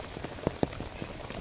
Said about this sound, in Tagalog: Buti na lang hindi ganong kalakas ang ulan.